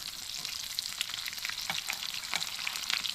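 Sliced bitter gourd sizzles steadily in hot oil in a pan just after being flipped, a continuous fine crackle with a few sharper pops, close and fairly quiet.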